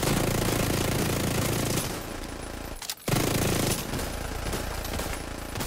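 Sustained video game gunfire, a loud continuous rattle of rapid shots that stops for a brief moment partway through, then resumes just as dense.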